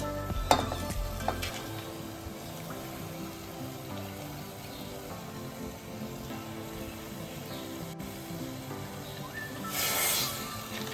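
Soaked rice is stirred into chana dal khichdi in a pot, giving a few metal clanks at the start followed by a quiet, steady low sizzle and soft stirring, close by with no talk.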